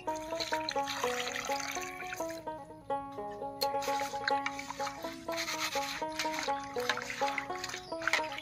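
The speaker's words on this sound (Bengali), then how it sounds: "এবার পাতাগুলো বেছে পরিষ্কার করে ধুয়ে নেব" Pumpkin leaves washed by hand in water while cooking, soft splashing and rubbing against a steady musical background.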